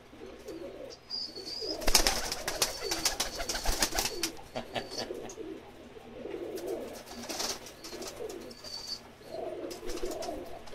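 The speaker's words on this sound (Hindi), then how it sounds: "बटेरा कबूतर है जी" Pigeons coo softly and repeatedly in a low, rolling rhythm, with a sharp rustle or flutter partway through and faint outdoor background.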